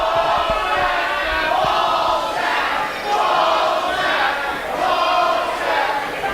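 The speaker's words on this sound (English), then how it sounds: "you can hear the crowd chanting Bostic" Crowd at a fight between Dylan Bostic and Andrew Palace chanting in loud, rhythmic waves of massed voices, rising and falling repeatedly over several seconds.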